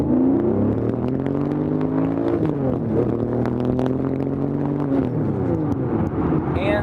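A Lamborghini Diablo engine pulls hard under acceleration, its loud tone climbing in pitch, then dropping at each gear change before rising again, heard close from inside the car without talk.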